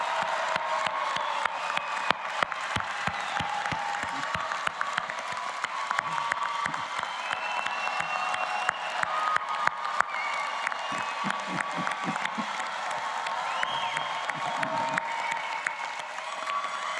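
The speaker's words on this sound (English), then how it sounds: "Let's give them a round of applause for the support they've shown you." Audience applause at a Rutgers School of Management and Labor Relations convocation ceremony, a sustained crowd clapping that holds steady for the whole stretch with a few scattered cheers.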